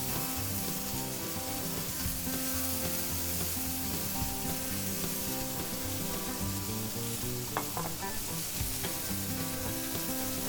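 Burgers, mushrooms, onions, peppers and butter-dunked buns sizzle steadily on a grill, a dense continuous crackle with faint scraping, fairly quiet and uninterrupted, with no voices.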